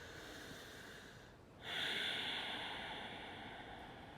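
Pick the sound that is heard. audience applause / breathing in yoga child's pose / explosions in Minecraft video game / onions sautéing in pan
breathing in yoga child's pose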